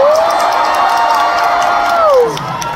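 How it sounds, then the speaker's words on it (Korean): A large crowd at a concert cheering loudly, with sustained high-pitched screams riding over a dense roar of voices and applause, the screams sliding down and easing off near the end. "여러분들 큰 박수 부탁드리겠습니다"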